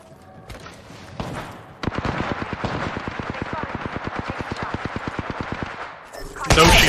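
Automatic gunfire in the battle royale video game Apex Legends, a loud, rapid, even burst of dozens of shots lasting several seconds, followed by a harsh blast of noise at the end.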